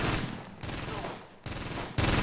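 Sustained gunfire from units in the tactical wargame Close Combat, loud overlapping bursts that come in three surging waves, each sharply restarting after a brief dip.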